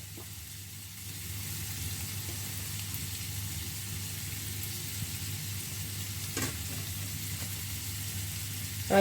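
Finely chopped onion and dried red chillies sauté in a pan, giving a soft, even sizzle that holds steady at moderate loudness, with occasional faint scrapes of stirring.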